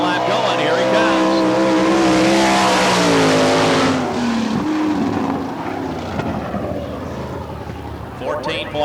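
A sprint race car at Barberville speedway in Florida howls past on a lap, its engine rising loud and near, then falling off into the distance, with a commentator's voice heard over the roar.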